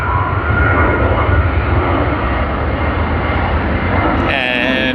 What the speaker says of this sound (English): What a wonderful departure that was.